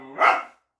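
One dog outside a house on a cold night lets out a single sharp bark, close and fairly loud, fading quickly into silence.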